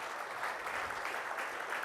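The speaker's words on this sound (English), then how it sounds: "can we have a huge round of applause from the audience one more time for all our winners so far?" An audience at an entrepreneur award ceremony in India claps steadily for the winners, a dense, continuous wash of many hands at moderate loudness.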